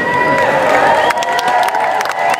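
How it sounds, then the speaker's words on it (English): A stadium crowd cheers for the Australian solar car team at the opening ceremony start line of the 2011 World Solar Challenge in Darwin, a dense, steady roar of shouting voices with scattered whistles and applause throughout. "Our own Australian team, give them a cheer."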